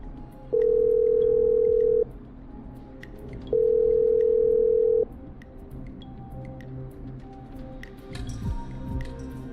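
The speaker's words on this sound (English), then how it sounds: "I'm dialing." Telephone dialing in the video game Killer Frequency: two long steady ringback tones, each about a second and a half, separated by a pause, over quiet background, with faint rustling afterward.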